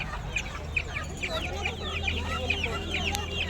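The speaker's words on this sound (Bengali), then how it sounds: "আর এই মুরগিগুলোর নাম হচ্ছে তিতে মুরগি" Guinea fowl and other poultry at a village duck-and-chicken market in West Bengal give a rapid series of sharp, repeated calls throughout, over a steady low hum and busy market background.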